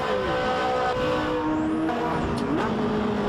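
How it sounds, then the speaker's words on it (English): A Ferrari F40 in a racing video game drones loudly and steadily, pitch rising and falling through gear changes, with another car's whine sweeping past. "The sound of this lovely F40, which is of course a Kunos car"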